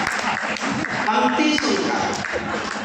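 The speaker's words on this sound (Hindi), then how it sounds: "एक बार तालियों का महोत्सव देखना चाहता हूँ।" An audience at a Hindi poetry recital breaks into clapping mixed with loud voices, a short burst of applause under shouting and chatter from the crowd.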